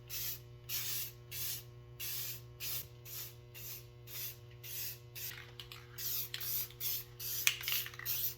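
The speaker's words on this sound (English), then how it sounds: "Now, top it off, I got here with me a can of clear coat." Aerosol can of clear coat sprayed onto homemade cup holders in short bursts, about a dozen quick hissing sprays in a fairly regular rhythm, close and fairly quiet, with no talking.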